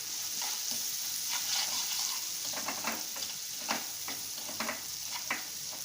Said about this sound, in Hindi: हल्का सा 30-40 सेकेंड फ्राई करने के बाद इसमें मैं टमाटो प्यूरी डाल दूंगी।